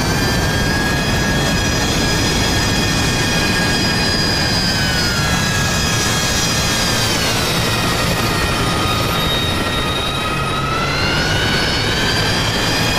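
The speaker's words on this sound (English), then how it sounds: "jets on the runway to take off" Jet engines on a runway in DCS World, many military jets such as MiG-21s and Sukhois waiting to take off: a loud, continuous roar with whining turbine tones that slowly bend in pitch, with no pause throughout.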